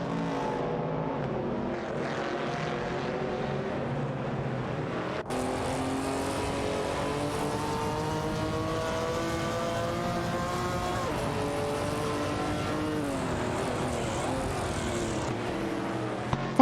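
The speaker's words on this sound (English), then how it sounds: "It's a showdown between a Chevrolet Camaro 70 and a Dodge Dart." Chevrolet Camaro 70 and Dodge Dart race cars in a racing video game, engines droning steadily with rising and falling revving tones as gears shift, layered motor whine continuous throughout, no talk.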